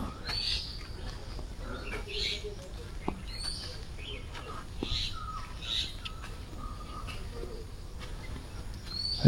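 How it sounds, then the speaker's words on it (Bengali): Several birds chirp and call intermittently across an open tea garden in the morning, with high tweets scattered over a low steady background hum. "কত পাখি ডাকছে শোনো।"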